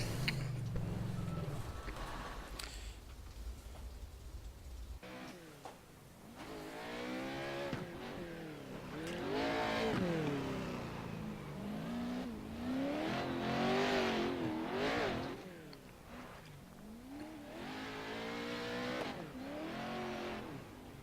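Engine of a Pro4 four-wheel drive racing truck in the iRacing sim, revving and shifting loudly through continuous acceleration, with rising and falling pitch sweeps and occasional tire squeal.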